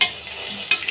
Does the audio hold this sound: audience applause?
no